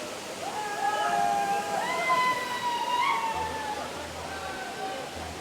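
Water of the Namaste waterfall in Nepal pours in a steady broadband rush, with tonal calls or voices rising and falling over it throughout.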